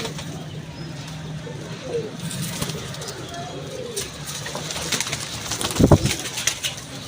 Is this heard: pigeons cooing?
yes